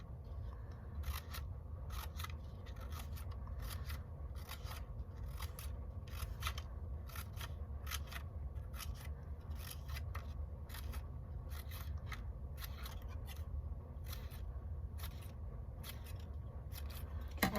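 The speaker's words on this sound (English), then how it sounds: "I'm going to make fringe by taking my scissors like this." Rapid, repeated snips of scissors cutting a paper fringe, a steady run of short crisp cuts close by with low background rumble.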